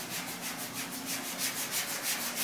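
Block sanding the body of a 1965 Mustang during restoration bodywork, steady rhythmic back-and-forth rasping strokes, close and even, with no voices.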